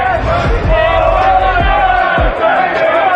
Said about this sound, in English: the crowd were already all over me